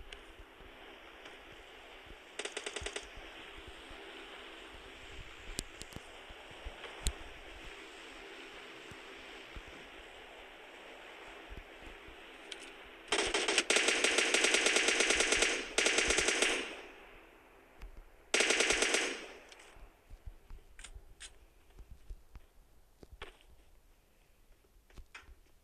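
Machine gun fire from the video game PUBG plays over a steady background hiss, with scattered single shots and then two loud sustained automatic bursts of a few seconds each.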